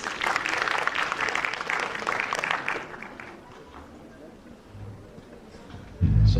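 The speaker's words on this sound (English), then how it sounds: "Please join me in welcoming Sir with a huge round of applause." A conference audience at a health sciences school bursts into loud applause to welcome a speaker, dense clapping that fades down after about three seconds, leaving quieter room noise and a brief thump near the end.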